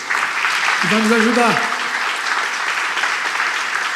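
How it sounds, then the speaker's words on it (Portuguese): A church congregation at a pastors' union gathering in Rio de Janeiro applauds in a steady, full burst of clapping, and a voice speaks briefly over it. "Aplaude o Senhor"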